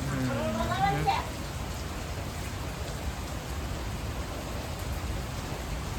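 Steady rain falls in a broad, even hiss throughout, with a person speaking briefly over it at the start before the downpour carries on alone.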